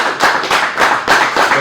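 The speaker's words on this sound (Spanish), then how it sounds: "El otro fuerte aplauso al Señor Jesús" Church congregation applauding during a sermon, steady rhythmic clapping from many hands, fairly loud and close, with no voices over it.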